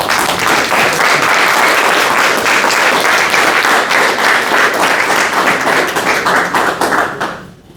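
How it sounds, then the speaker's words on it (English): Applause from a Toastmasters meeting audience welcoming a speaker, dense and loud clapping sustained for about seven seconds before tapering off quickly. "Please give a resounding applause"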